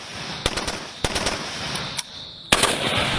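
Sharp gunshots from night-time target practice in darkness crack out in small irregular clusters, several quick pairs and singles spread over a few seconds against a quiet outdoor background.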